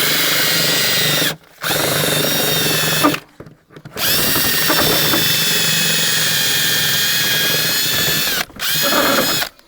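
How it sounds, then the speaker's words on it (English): A power drill whirs loudly in long continuous bursts, stopping briefly three times before spinning up again, close by with no talking. "I'll just give this a drill"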